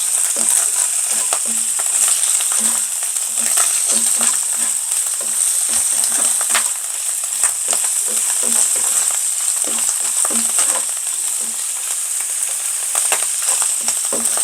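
Sliced mushrooms fry in a pan for a burger steak, giving a steady loud sizzle throughout with frequent sharp pops and crackles scattered irregularly over it.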